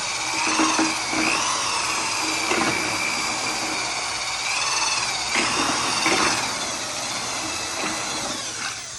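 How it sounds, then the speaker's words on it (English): A power drill whirs at high speed, its bit spun just above a bucket of pottery glaze, pitch rising and falling in several bursts over a steady motor hum, close and fairly loud. "I clean off the drill by just hovering it over the level of the glaze, spinning my drill bit fast"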